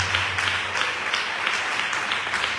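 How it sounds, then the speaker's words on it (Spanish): A church congregation claps steadily, a dense wash of applause filling the space at even volume without a break. "Al Señor ese aplauso."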